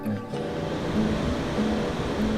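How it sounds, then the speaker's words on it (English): Ocean surf pounds in and churns steadily as storm Ophelia approaches, a loud, continuous roar of breaking waves with no voices over it. "As you can see, the waves were pretty crazy."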